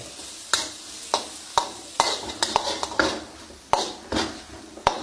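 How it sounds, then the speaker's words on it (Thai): Garlic frying in oil until golden and crisp, with loud close sizzling and a series of sharp spatula scrapes and knocks against the pan at irregular intervals. "เจียวให้เหลืองกรอบได้เลย"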